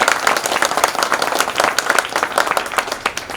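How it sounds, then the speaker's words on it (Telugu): Loud, dense applause from a Baptist church congregation at a 25th anniversary celebration, many hands clapping steadily and close throughout. "ఒకసారి బిగ్గరగా చప్పట్లతో నాకు అభినందించాను."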